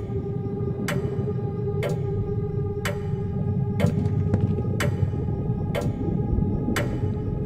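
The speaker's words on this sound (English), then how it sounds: "Okay, the clock is ticking," A clock in The Beast Inside video game ticks steadily about once per second, crisp and evenly spaced over a low ambient room hum, with no talking.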